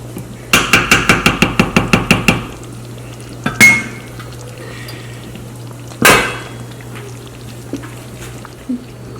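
A pot of peanut soup is covered with its lid, heard as a quick run of about a dozen sharp, evenly spaced clacks, then a few separate louder knocks of metal.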